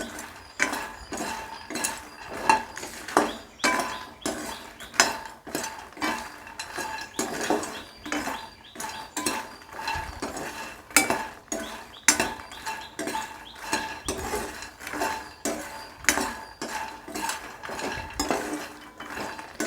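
Fox nuts (makhana) are stirred and fried in a pan, making a fast, continuous run of sharp scraping clinks from a utensil against the pan, with a faint sizzle underneath and no talking.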